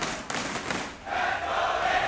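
A crowd at the ESL One Bangkok 2024 Dota 2 event rises into a broad, steady roar of cheering after a couple of thumping hits, filling the space loudly.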